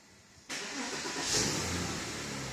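A Porsche Boxster 986 engine starts with an abrupt ignition roar, then settles into a steady, close idle that swells slightly before levelling off.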